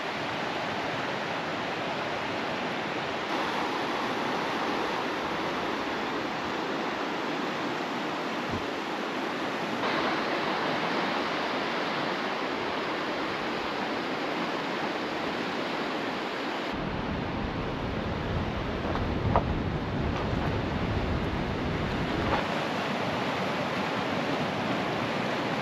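Water in Seattle Creek along the Denali Highway in Alaska flows steadily and close by, a constant broadband rush with no talk over it.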